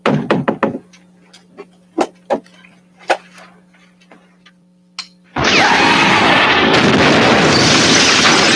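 A staged car explosion in a radio drama: several sharp knocks and pops across a quiet stretch, then a sudden loud roaring blast that keeps rumbling on at full volume to the end.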